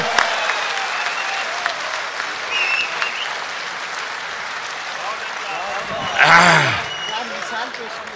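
Loud, dense applause from an audience at a poetry recital as Urdu poet Rahat Indori is welcomed on stage, sustained throughout with a brief swell and a voice near the end.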